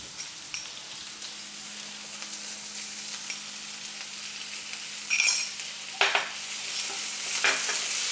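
Onions are sautéed with curry leaves and salt for a Kerala-style beef curry, sizzling steadily in a hot pan while a spoon stirs and scrapes with a few louder bursts near the end, close and with no voices.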